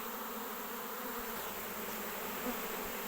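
A honeybee swarm being collected into a box hums as a dense, continuous buzz of countless wings, loud and close, with no pauses.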